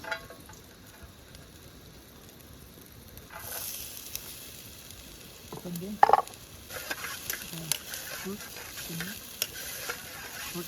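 Garlic sizzles and fries in a pan over a campfire-style setup at a night campsite, a steady crackling hiss with stirring scrapes and a few louder clanks, with faint voices in the background.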